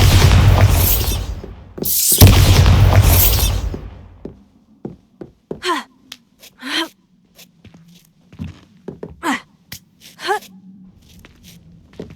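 Bombarda blasting spell in the video game Hogwarts Legacy: two loud, roaring explosive bursts back to back, followed by a string of sharper, quieter magical pops and crackles over a low hum.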